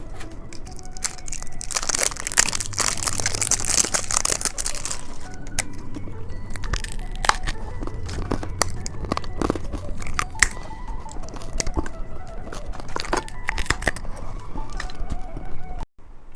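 Dice-shaped hard candies bitten and crunched close to the mic, with dense, loud, repeated brittle cracks and crunches that continue steadily through the whole stretch, no talking.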